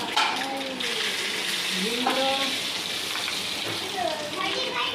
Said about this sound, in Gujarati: બધું વઘારીએ હવે